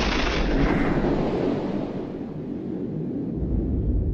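An explosion depicting the Big Bang erupts as a huge, dense, roaring blast that starts loud and broad, then rumbles and fades slowly over several seconds with a deep low-end tail.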